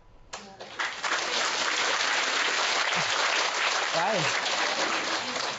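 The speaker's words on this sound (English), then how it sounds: "Just say a word, thank you, and everybody clap" An audience breaks into dense, sustained applause that swells quickly after a quiet start and holds steady and loud, with a voice briefly exclaiming over it.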